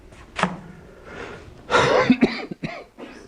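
A few harsh coughs close by, one short burst early and a rougher cluster of coughing and throat noise near the end.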